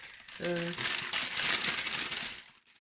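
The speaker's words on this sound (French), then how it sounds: "mettre par-dessus du papier cuisson" Baking paper crinkled by hand as it is placed over a marinated roast chicken, a close rustling crackle lasting about two seconds, with a brief voice near the start.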